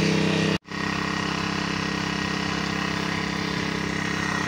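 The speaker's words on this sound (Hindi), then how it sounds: "लो जी इंजन स्टार्ट हो गया मशीन का बेहतरीन।" A crop sprayer machine's small engine runs steadily in a wheat field, a loud, continuous buzzing drone with a brief cut near the start before the steady running resumes, with no talking.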